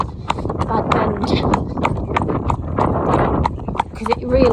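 A horse's hooves clip-clop at a steady walk while out on a hack, circling around an obstacle near a bend, with someone talking over the hoofbeats throughout.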